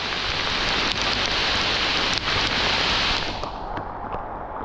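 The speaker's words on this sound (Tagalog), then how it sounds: "Talagang malakas ang ulan." Heavy rain pours down steadily outdoors in rural hill country, a dense, loud, continuous hiss of drops hitting surfaces close by, with no voices.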